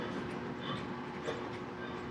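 A steady rolling rumble of a post-war Hudson model locomotive pulling Madison cars along its track, continuous and fairly close, with faint voices murmuring in the background.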